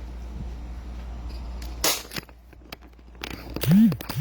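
An airsoft 2011 6.0 Infinity pistol fires, giving a sharp snap followed by a few faint clicks and then a louder crack with handling noise, all close up.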